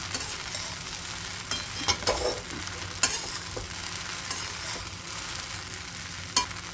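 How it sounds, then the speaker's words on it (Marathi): Sabudana khichdi with potatoes and green chillies being stirred in a pan on the stove, a soft continuous sizzle broken by a few sharp scrapes and taps of the spatula. "चला पुन्हा एकदा हलवून बघूया आपण खिचडी।"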